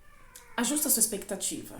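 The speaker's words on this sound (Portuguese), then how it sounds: "Desculpa o barulho, gente, é uma gatinha." A kitten meows in a home while someone talks over it, giving several short high cries that overlap her speech.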